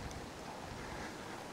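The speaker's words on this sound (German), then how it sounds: "Endlich ein bisschen Wind" Wind blowing outdoors on a hilly bikepacking route in Sardinia, a constant broad rushing roar buffeting the microphone, with no voices.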